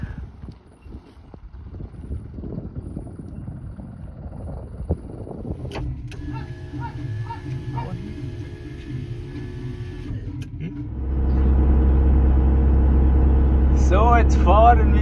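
A camper descends a steep mountain road in Armenia toward the Turkish border, its engine droning steadily with faint rattles and clicks, then growing into a louder, fuller rumble near the end, with no talk.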